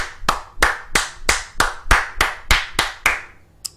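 Bare hands clapping alone in a steady, even rhythm, about eleven sharp claps close to the mic, each a crisp smack, slowing slightly at the end, with no talking.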